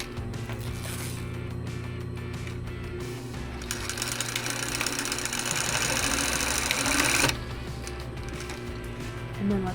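A sewing machine stitches a half-inch seam along the side seams of fabric shorts, a loud continuous mechanical whir and clatter that swells into a harsher, denser run midway before cutting back.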